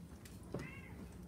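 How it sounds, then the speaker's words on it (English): A cat lets out a single short, faint meow in a quiet kitchen during home cooking, with a low hum of background noise. "Cat."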